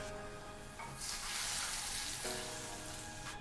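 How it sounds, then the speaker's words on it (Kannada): Peanuts frying in oil for capsicum chitranna, a steady dense sizzle and crackle up close, swelling louder in the middle of the clip, with no talking. "ಕಡಲೆಕಾಯಿ ಬೀಜನ ಹುರಿಬೇಕಾದ್ರೆ ಚಿಟಪಟ ಅಂತ ಸೌಂಡ್ ಬರುತ್ತೆ"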